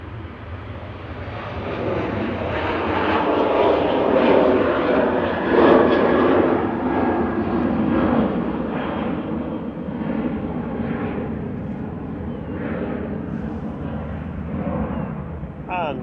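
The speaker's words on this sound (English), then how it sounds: "first two, an EasyJet and a Ryanair taxiing out" Jet airliners, an EasyJet and a Ryanair, taxi at Manchester Airport with a steady, loud engine roar and whine that swells slightly midway, heard outdoors from a distance with a brief rise near the end.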